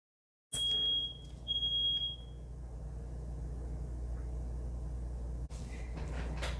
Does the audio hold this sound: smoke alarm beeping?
yes